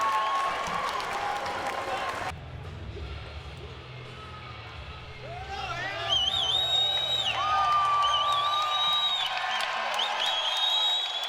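A crowd at a mixed martial arts fight at the Edmonton Expo Center, with a loud burst of cheers that drops to a lower murmur, then rises into whoops and whistles, while a commentator talks over it.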